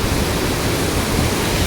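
Water pours over a dam near Theni, a loud, dense, unbroken roar of rushing water with no other sounds.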